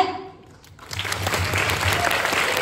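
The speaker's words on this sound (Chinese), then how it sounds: "让我们一起为每个人的付出大声的喝彩" Applause breaks out at a school anti-bullying micro-film awards event, a dense, steady patter of clapping rising after a brief lull and carrying on loudly to the end, with faint voices mixed in.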